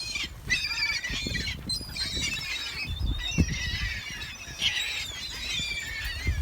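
Lake birds being fed give off many overlapping squeals and honking calls, a busy, fairly close chorus over low rumbling handling noise and wind.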